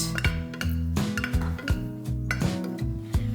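Spinach, cheese and melting butter being mixed in a bowl, with repeated ringing clinks and scrapes of a utensil against the bowl in an uneven rhythm, close and clear, with no speech.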